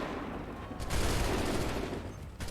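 A musket volley in Assassin's Creed III on the Wii U: a rumbling, crackling mass of gunfire from many soldiers, fairly faint and distant, swelling after a sharp onset then tapering off.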